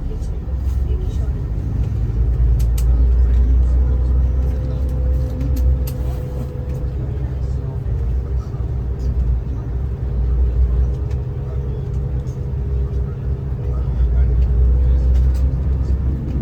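A tour bus on a road trip from the UAE to Oman rumbles steadily from inside the cabin, a low engine drone and road noise holding throughout with faint background voices.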